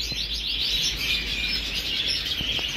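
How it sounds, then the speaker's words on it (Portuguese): Red mosaic canaries chirp in a rapid, continuous stream of bright tweets and trills, close and fairly clear over a faint low background hum. "Casal de vermelho mosaico, linha macho."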